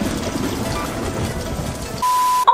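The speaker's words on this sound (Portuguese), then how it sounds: "Porrada seca de chuva." Heavy downpour of rain pounding steadily as a dense, loud hiss, cut off near the end by a steady electronic tone.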